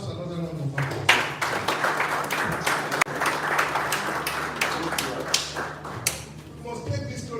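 Applause from the audience at a football media parley, a steady patter of many hands with a few sharper claps standing out and a low hum running underneath.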